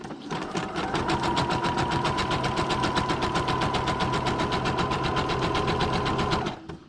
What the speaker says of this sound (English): it's still sewing on paper